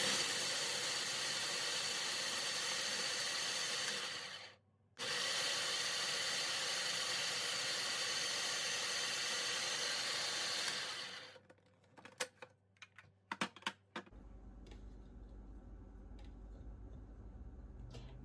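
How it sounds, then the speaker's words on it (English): A food processor whirs in a steady, loud wash of noise as it blends ingredients toward a flour-like consistency, cutting out briefly, running again, then stopping into a few clatters and a low hum. "We're just going to add that to our food processor. Blend this up until it gets to a flour consistency."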